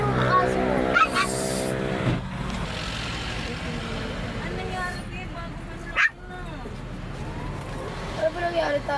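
A dog riding in a car during a family outing barks and whimpers in short yips, close by, under people talking and the rumble of the vehicle.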